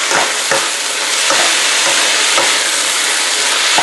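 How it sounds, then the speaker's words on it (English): Sugar snap peas and beef strips sizzle loudly in a hot wok with sesame oil, a dense continuous hiss punctuated by a few sharp stirring scrapes, close and with no talking. "The sound of the sizzling."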